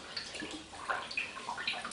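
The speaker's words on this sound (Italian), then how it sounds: "Adesso lo raccogliamo e lo immergiamo nella nostra acqua e sapone." Fabric lowered into a pot of soapy water during natural dyeing with plane-tree wood, giving soft sloshing and dripping splashes that rise and fall over two seconds, close and moderately quiet, with no talking.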